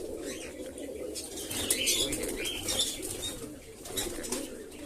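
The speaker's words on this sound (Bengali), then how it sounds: "এইটা অনেক দিনের পায়রা এটা আমার গোলা একটা গোলা লাইনের পায়রা" Rapid, fluttering wingbeats of a pigeon flapping close by, in short bursts, with soft cooing underneath.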